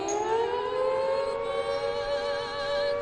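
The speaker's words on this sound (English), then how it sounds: "The air raid siren." A loud air raid siren wails steadily alone, its rising tone sustained and close throughout.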